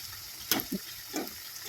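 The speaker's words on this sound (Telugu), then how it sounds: "ఇంకా ఫ్రై అయితే అవుతున్నాయి." Bottle gourd vadas deep-frying in oil, a steady soft hiss with a few brief gentle bubbling pops, faint and close.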